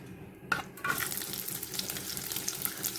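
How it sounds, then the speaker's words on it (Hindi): Chickpeas frying in a small amount of oil in a cooking pot give a soft, continuous sizzle, with a few clinks and stirring scrapes near the start, close and fairly quiet. "मैंने देगची रखी है, इसके अंदर मैं चने फ्राई करूँगी थोड़े से ऑयल डाल के"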